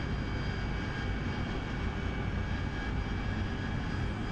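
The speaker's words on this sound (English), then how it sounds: "I'm going to let the speed bleed off, and I'm actually going to let the aircraft descend as well" A steady, loud roar of an AV-8B Harrier jet engine in the DCS flight simulator, droning evenly throughout with no breaks and no voices.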